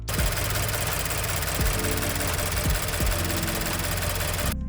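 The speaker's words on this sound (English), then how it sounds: "At number 1, we have the engine sound at idle." A Subaru BRZ/Scion FR-S/Toyota 86 sports car's FA20 engine idles with a loud, steady, rough drone and a low uneven throb that keeps going the whole time.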